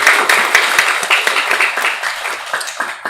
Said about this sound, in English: So again, big round of applause for these two speakers first.